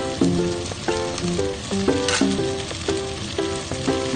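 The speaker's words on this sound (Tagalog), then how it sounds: "Stir fry natin ng mabilisan lang. Add natin ng lily bulbs." Mixed vegetables with lily bulbs stir-frying in a pan give a steady, close sizzle that runs under prominent background music for the whole stretch.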